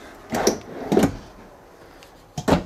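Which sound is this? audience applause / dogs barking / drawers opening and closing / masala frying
drawers opening and closing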